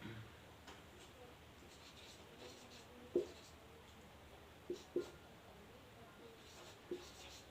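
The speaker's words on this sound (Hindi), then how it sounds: "मैं लिख लेता हूं," A pen or marker writing on a board during a maths lesson on polynomials, giving faint scratching strokes and a few soft taps over quiet room noise.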